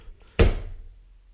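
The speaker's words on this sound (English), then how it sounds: "I'm gonna open two of the doors." Doors of a built-in wardrobe in a studio apartment opened, giving a single sharp wooden thunk followed by a short fading rattle, close and fairly loud in an otherwise quiet room.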